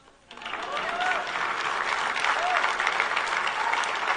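A church congregation breaks into applause that swells quickly and continues as a dense, steady wash of clapping, with faint tonal whistles or voices above it.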